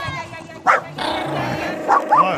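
A dog barks a few sharp times at a family barbecue gathering, the barks close and loud, with people talking around it.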